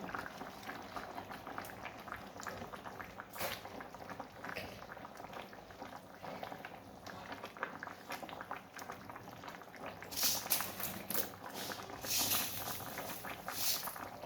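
Taro and Malabar spinach simmer in a covered pot, a steady close bubbling and faint patter of boiling liquid running throughout, with brief louder lid and stirring clatters near the end.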